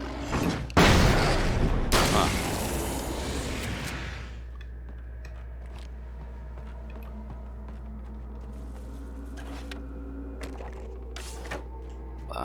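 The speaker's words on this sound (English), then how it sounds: "Flashbang." A flashbang explosion in Alan Wake's American Nightmare: a loud, dense blast that opens the clip and fades over about four seconds into a low steady hum, with small clicks and mechanical ticks afterward.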